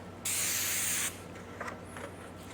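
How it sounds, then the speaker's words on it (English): A steady burst of aerosol vinyl prep spray hisses onto plastic for about a second, followed by a few faint clicks and light handling noises. "So we're going to spray this on here."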